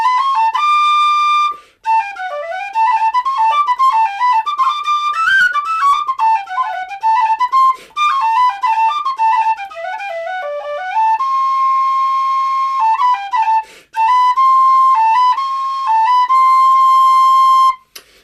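A Weston pistachio wood D whistle plays a lively melodic run of bright, clear notes, then settles into long sustained tones with brief pauses, close and loud with no talk.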